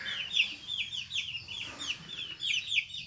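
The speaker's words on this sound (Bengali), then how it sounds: "এখানে কিন্তু আরও মুরগির বাচ্চা আছে। এই যে মশারি দিয়ে রাখা হয়েছে" Chicks cluck and peep repeatedly beneath a mosquito net at a home with pet animals, a steady run of high, close calls with no talk.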